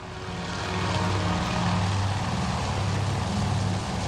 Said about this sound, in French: Désolé pour les bruits d'avion.